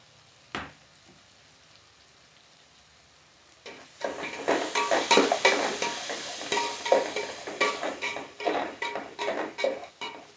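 Vegetables for vegetable biryani fry in a pan. One scrape comes first, then a dense crackling sizzle begins partway through, with the rhythmic scraping of stirring.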